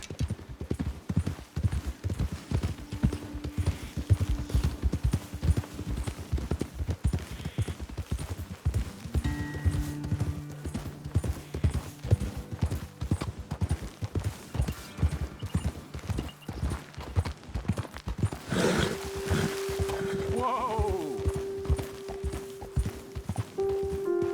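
Steady clip-clop of horse hooves walking on hard ground in the video game Red Dead Redemption 2, rhythmic and close, with a brief horse whinny near the end.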